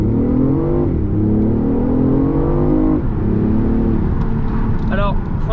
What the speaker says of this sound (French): L'électrique tu gagnes surtout à bas régime, quand tu pars ça part fort.